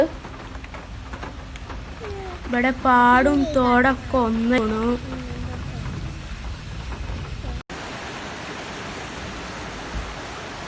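Heavy rain in Makkaraparamba with a flooded stream running over its banks through the fields, heard as a constant broad wash of rain and rushing water, with someone talking over it for a few seconds.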